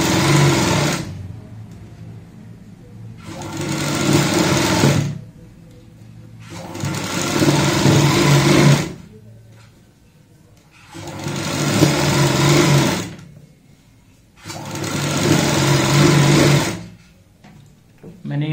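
A sewing machine stitches along the edge of a strip on a designer jacket worn over a kurti, running in four or five rapid buzzing bursts of a few seconds each, separated by short pauses.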